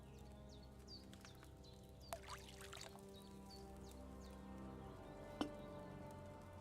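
In a medieval alchemy scene from Kingdom Come Deliverance 2, wine trickles from a pitcher into a cauldron as a soft, continuous pour, with faint chirping birds and a small clink partway through.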